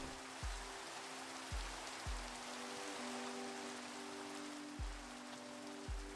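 Steady rain pours in a video game scene beside a waterfall, a dense even hiss filling the whole clip, with a few soft low thumps recurring at irregular intervals and no talking.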